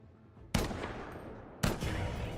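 Anti-material rifle fire in a video game: two loud, sharp shots about a second apart, each followed by a long rumbling tail, set against quiet background ambience.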